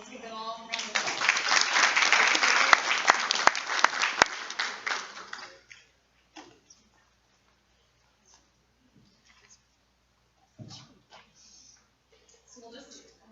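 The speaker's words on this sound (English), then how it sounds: "Let's give them all a round of applause." Audience applause at a meeting on human trafficking cases, a loud burst of clapping for about five seconds that fades out, followed by quiet room noise and faint shuffling.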